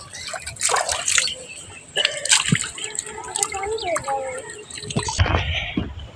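Someone washes in a full river, scooping and pouring water with splashes and trickles in uneven bursts, while voices talk over it.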